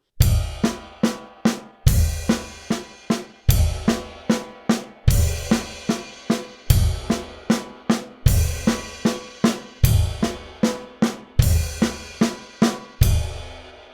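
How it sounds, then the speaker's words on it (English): A drum kit plays accented single paradiddles, with steady close strokes and each group's accent struck on the right cymbal, giving bright crashing hits in a regular repeating pattern until a final ringing stop. "now I'm gonna put the accents onto the cymbals"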